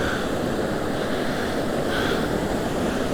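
Sea surf at Shek O Beach, Hong Kong, a steady roar of washing waves mixed with wind buffeting the microphone, continuous and fairly loud with no voices.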